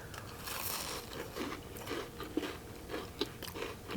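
Someone bites into a crispy Wendy's double chunk chocolate chip cookie and chews it close to the microphone, giving a string of crunchy, crackling bites at irregular intervals.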